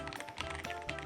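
Fast typing on an Ajazz AK75 Pro tri-mode gasket-mount mechanical keyboard fitted with Sky Blue switches gives a dense run of crisp, close key clicks with no talking.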